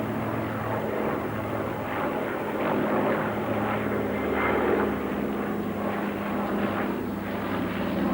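A veteran propeller cargo plane over 40 years old, adapted for spreading fertilizer over New Zealand, drones steadily in flight, a loud continuous engine roar with no voices.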